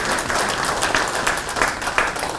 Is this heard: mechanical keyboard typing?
no